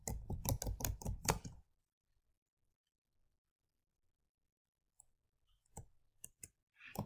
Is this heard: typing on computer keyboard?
yes